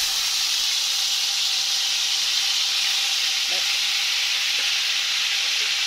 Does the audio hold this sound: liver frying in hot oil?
yes